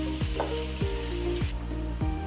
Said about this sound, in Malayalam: ഇത് നന്നായിട്ടൊന്ന് മൂക്കട്ടെ